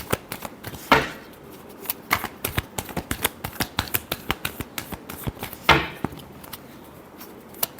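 Tarot cards are shuffled close by in rapid, crisp riffles and taps, a quick train of papery clicks with two louder flutters and no talking.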